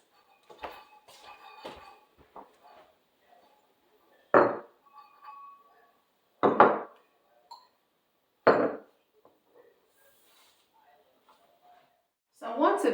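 Clear glass dishware with a gold edge clinks as a dining table is set for fall, several separate chinks and taps spaced a few seconds apart, close by, with soft handling noises between them.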